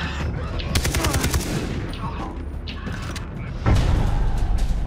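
Mounted machine gun firing in the video game Far Cry 3, with rapid bursts of automatic shots and mechanical clatter, then a louder burst near the end.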